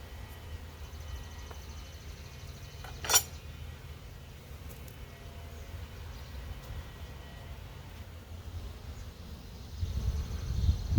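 Honey bees buzzing during a summer hive inspection, a low continuous hum close by with a single sharp clink partway through and the drone swelling louder near the end.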